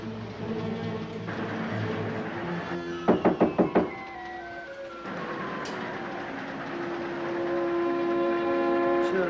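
A quick burst of about five sharp knocks on a compartment door aboard a moving train, heard over the constant rumble of the railcar and a drawn-out train whistle, with no speech.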